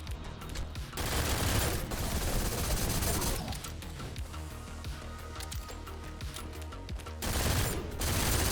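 A silenced SMG fires in the shooter game GTTOD in dense, continuous bursts with brief pauses, and reload clicks are mixed in. No voices are heard.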